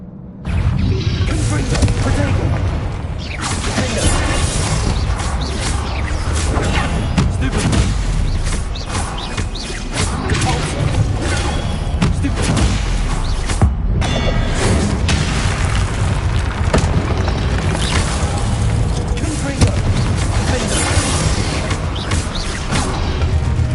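Dense, continuous booming blasts from the Confringo fire spell in Hogwarts Legacy, loud and close, with rumbling explosions and crackling bursts piling up nearly without pause and a brief dip in the middle.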